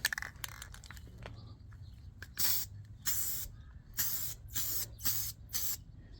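Aerosol spray paint can hissing in several short bursts onto a Nissan 300ZX engine bay, each blast a few tenths of a second to about half a second long, loud and close with brief pauses between.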